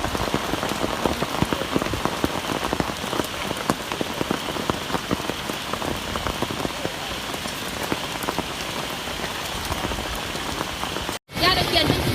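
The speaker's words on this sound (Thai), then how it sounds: "กลางสายฝนนะครับ กลางสายฝน" Steady, dense rain pours down outdoors at a shrine offering ceremony in Sangkha, Surin, with windy conditions, a continuous loud hiss of drops on surfaces that briefly cuts out near the end before resuming.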